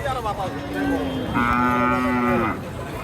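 Cattle at a busy livestock market for beef cows in Naogaon, with one loud, close, drawn-out moo over a murmuring crowd.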